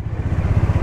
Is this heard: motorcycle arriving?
yes